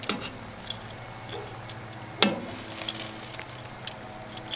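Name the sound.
beer brats sizzling on a kettle grill as they are flipped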